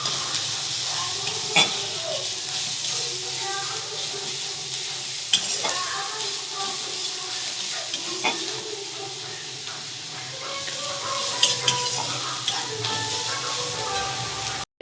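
Onions sizzle and hiss in plenty of hot oil as a spoon stirs and scrapes through them, giving a continuous frying crackle broken by occasional sharp clinks, with no talking.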